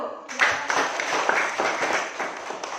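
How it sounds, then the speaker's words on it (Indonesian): Classroom applause for a student group breaks out after a brief pause, a dense run of many hands clapping together, fairly close and steady before it begins to thin. "Tepuk tangan untuk kelompok 1"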